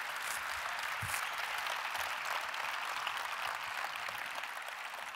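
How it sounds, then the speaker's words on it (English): Keynote audience at a Vancouver business summit applauding, a dense, steady crowd clap that stays even and somewhat distant for several seconds. "Let's clap it up."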